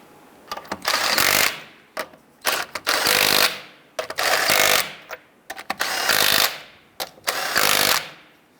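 Impact wrench snugging wheel lug nuts on a 1994-2004 Ford Mustang after front sway bar link work: about four loud, close bursts of rapid hammering, each a second or so long, separated by brief pauses.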